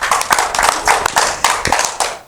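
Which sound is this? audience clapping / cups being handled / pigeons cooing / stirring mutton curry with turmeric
audience clapping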